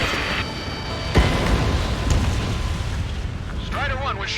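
Aircraft downed in the jet combat game Ace Combat 7 blows apart with a sudden sharp boom, then a long rumbling roar with crackling debris under faint game chatter and beeps.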